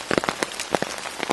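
Heavy rain pours steadily in wet woodland at about 1,200 feet, a dense hiss of drops hitting surfaces with sharper splatters poking through, close and continuous with no voices.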